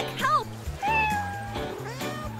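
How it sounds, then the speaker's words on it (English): A stuck cat meows plaintively, with several clear, drawn-out cries in quick succession, close and fairly loud against a faint background. "Ah, my cat is stuck."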